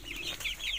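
A heavy Marans hen clucks close by in a short series of throaty, rising calls.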